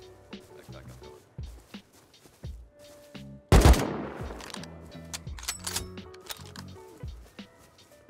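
AK assault rifle fire in the survival game Rust: a sharp, loud burst of shots near the middle, with scattered quieter shots and clatter before and after it.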